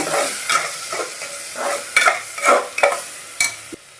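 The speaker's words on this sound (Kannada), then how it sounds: "ಚೆನ್ನಾಗಿ ನಾವು ಇದು 1 ಸೆಕೆಂಡು ಚೆನ್ನಾಗಿ ಬೆರೆಸ್ಕೊಂಡ್ಬಿಡೋಣ" Spinach palak rice mixture stirred in a pan, a spoon scraping and clinking in uneven strokes with a light sizzle underneath, close and fairly loud, with no talk.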